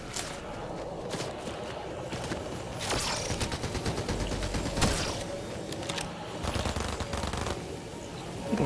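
Fortnite gunfire in a trio match, rapid bursts of shots crackling near and far over several seconds amid a busy firefight.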